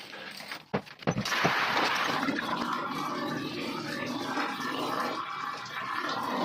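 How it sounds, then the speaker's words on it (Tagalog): Water is poured into a DIY pond built from PVC pipe, a steady rushing, splashing flow that starts after a few brief knocks and continues fairly close and loud to the end, with no one talking. "Lagyan na natin ng tubig."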